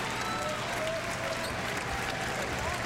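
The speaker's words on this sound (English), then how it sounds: "some of the crowd behind us starting to shout" Basketball arena crowd at a Maryland vs North Carolina college game in 2010, a dense steady roar of cheering and shouting with clapping mixed in, continuous and fairly loud.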